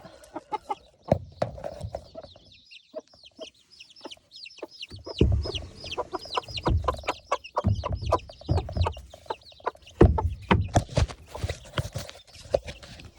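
A batch of hens and young poultry in a pen clucking and chattering nearby, with a busy mix of overlapping calls, scratchy shuffles and knocks, uneven in loudness throughout.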